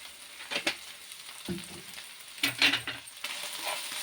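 Minced chicken keema fries in a pan with masala, giving soft crackling sizzles broken by a few brief stirring scrapes and clinks, close and fairly quiet.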